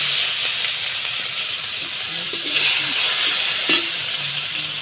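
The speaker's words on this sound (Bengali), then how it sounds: "টমাটম কুচি দিয়ে দেবো" Chopped tomato frying in a little oil with bay leaf, dried red chilli and cumin, a steady close sizzle and hiss with a few soft stirring scrapes, no talking.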